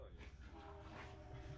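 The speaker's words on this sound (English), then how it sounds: "There's the train right on cue." A faint, distant passing train sounds a sustained horn-like tone over low rumble, with people talking nearby.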